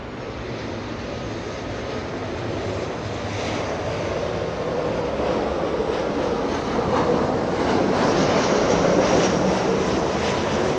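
A Southwest Boeing 737-700 arriving from Oakland lands at Los Angeles International Airport, its steady broadband engine roar building gradually and staying loud throughout with no voices.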